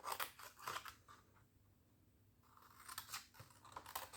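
Scissors snip through paper along marked lines for an Advent calendar box, a close, soft run of crisp cuts that pauses briefly in the middle before resuming, with no voices.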